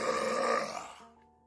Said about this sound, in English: I don't play the burp sound.